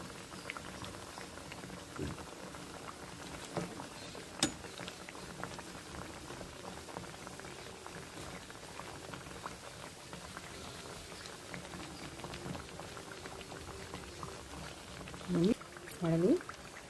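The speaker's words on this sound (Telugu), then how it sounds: "వడలు వేగిపోయినవి." Banana and moong dal vadas fry in hot oil with a steady, dense sizzle and fine bubbling that runs throughout, and a short burst of voice comes in near the end.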